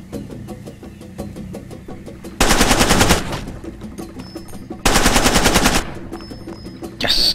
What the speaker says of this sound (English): there's a lot of people shooting me now